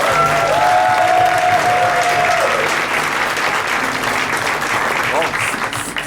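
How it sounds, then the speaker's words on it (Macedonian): A studio audience claps through a Macedonian talk show opening, a thick, sustained applause that holds steady and loud for several seconds, with a few voices and a whistle-like tone rising briefly over it. "Аплауз за вас, публико!"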